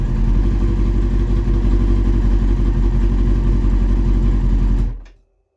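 A 2001 Kawasaki ZX6R motorcycle engine runs at a steady, close idle after an oil and filter change, with an even throbbing rumble that cuts off abruptly near the end, leaving silence.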